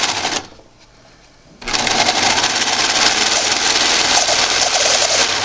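A sewing machine stitches fabric for a reusable sandwich bag, whirring loudly and steadily after a short pause, with the motor running continuously up close.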